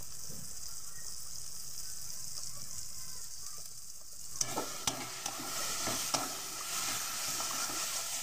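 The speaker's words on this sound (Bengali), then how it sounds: "দেখো আমি আর একটু কষিয়ে নেব মশলাটাকে।" Spice masala with cumin and coriander powder fries in a pan, starting as a soft hiss before a louder, brighter sizzle swells midway, with a few sharp clicks of stirring against the pan.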